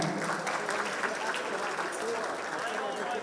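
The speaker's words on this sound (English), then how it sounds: "A big round of applause for them." An audience gives a sustained round of applause for classical Indian dance performers at a gala, dense continuous clapping throughout.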